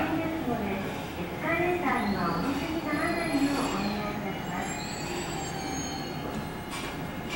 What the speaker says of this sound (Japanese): 回送電車が発車します。 ご注意ください。